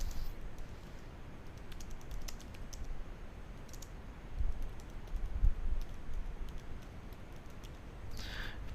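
Keys tapped on a computer keyboard while a help-request message is typed, faint scattered clicks over steady background hiss, a few louder taps in the middle.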